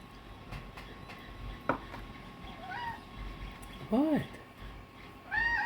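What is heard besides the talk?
pet cat meowing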